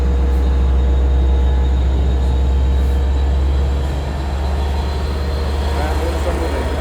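Inside a moving Oyster Bay Line double-decker commuter train on Long Island, a loud, steady rumble and deep hum fill the car throughout, with rail noise holding constant and no clear breaks.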